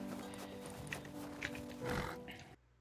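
Horse in the survival game Rust, its hooves and snorting grunts steady across a busy game soundscape, with a brief louder swell near the end before it cuts off.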